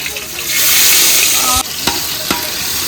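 Garlic dropped into very hot ghee with green chilies for a snakehead fish biryani crackles in a loud, close, continuous sizzle that surges and then settles, with a few sharp spatula taps.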